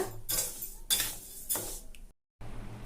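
Raw rice being stirred as it dry-roasts in a pan for homemade kuzhambu chilli powder, giving repeated scraping, rattling strokes of a utensil against the pan, close and fairly loud, with a brief silent gap near the end.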